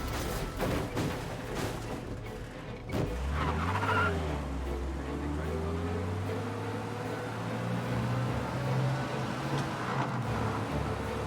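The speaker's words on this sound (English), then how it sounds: "We lose them by driving real fast and getting clear of them." A car in Mafia Definitive Edition speeds along with its engine droning loudly, tires skidding and screeching over a sustained, shifting engine tone.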